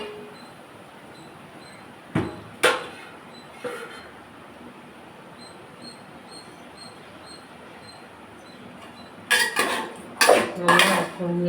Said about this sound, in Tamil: லைட்டாக வதக்கிக்கலாங்க.